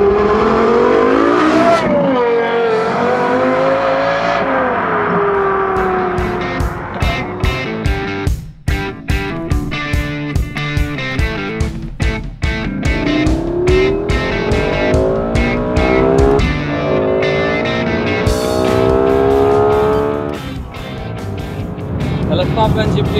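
A Lexus LFA sports car engine revs and drives past, loud and close, its pitch climbing and falling through gear changes with sharp bursts in the middle.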